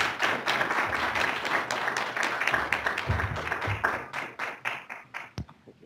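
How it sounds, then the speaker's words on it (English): An audience claps for a panel at the close of a cargo bike event, steady dense applause filling the room for several seconds before thinning out and ending with a few final claps. "Applause for the panel."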